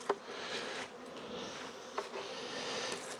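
Honey bees hum continuously at close range during a late-season hive inspection, a steady buzzing swarm with a couple of brief knocks from handling the hive.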